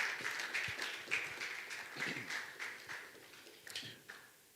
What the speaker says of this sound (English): Come on, keep clapping till she sits.